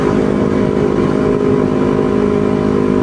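A Kawasaki Ninja 250 carbureted motorcycle on a morning road ride, its engine droning loud and steady at close range, with continuous rumbling and no speech.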